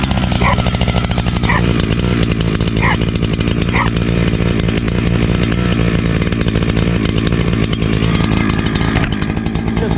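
Two-stroke chainsaw idling and warming up just after a cold start, a loud, steady, buzzing engine drone running the whole time, close by and alone.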